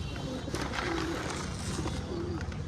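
Domestic high-flyer pigeons coo in low, repeated murmurs, faint against a steady wash of background noise, with no one speaking.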